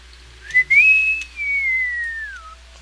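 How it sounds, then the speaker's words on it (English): A cartoonish descending whistle, the falling sound effect from the video game Terraria, glides smoothly downward from high to lower pitch over about two seconds, with a faint low hum underneath. "The falling sound effect."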